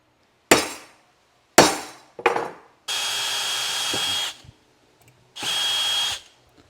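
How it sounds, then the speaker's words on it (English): Several sharp knocks and taps, then a power drill whines steadily for over a second, stops, and runs again in a second burst. "Go ahead and drill the hole."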